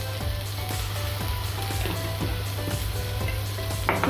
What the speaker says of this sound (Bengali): দিয়ে এখন আমি এটা একটু ভাজা করে নেব।